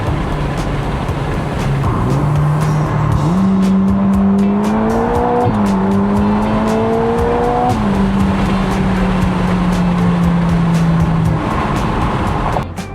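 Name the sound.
Ferrari Roma Spider accelerating on the highway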